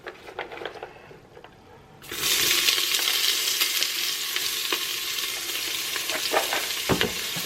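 Red onion dropped into hot oil for a vegetable crumble, the pan quiet for two seconds before a loud, steady sizzle bursts in and continues, with occasional stirring scrapes close by.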